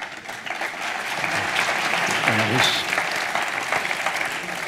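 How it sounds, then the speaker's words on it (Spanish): An audience at an economic insurance conference applauds, a dense sustained wash of clapping that stays steady for several seconds. "por favor, un fuerte aplauso."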